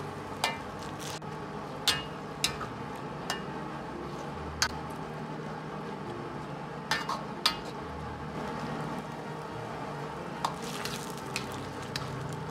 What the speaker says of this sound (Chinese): 开锅后用勺子稍微多翻动几下，让其受热均匀